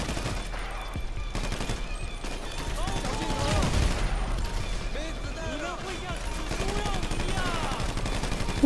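Rapid gunfire from a video game crackles in bursts and volleys throughout, mixed with clanking game effects. A player talks in French over the shooting.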